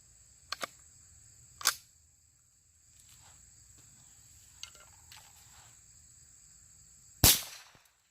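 Quiet CCI .22 LR shotshell rounds fire as a few faint, sharp pops spread over several seconds, the last one somewhat louder, against a near-silent outdoor background with a steady insect-like hiss.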